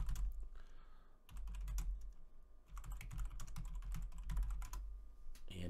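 Computer keyboard typing as a question is entered into a chatbot, with runs of quick, fairly close key taps broken by short pauses and no talking.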